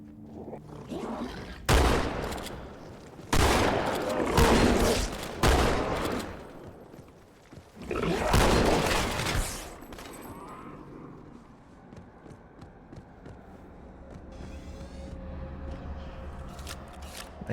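Several loud, blasting shotgun shots boom in Halo 2, each a heavy burst with a decaying tail, spaced a second or two apart, followed by quieter game ambience and scattered clicks.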